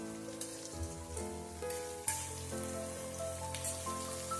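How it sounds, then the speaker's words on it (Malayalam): Sliced onions fry crisp in hot oil in a pan for mutton biryani, a soft continuous sizzle crackling like light rain, with occasional stirring knocks and background tones. "ഉള്ളി ഒരുപോലെ ഇളക്കി വറുത്തെടുക്കട്ടെ."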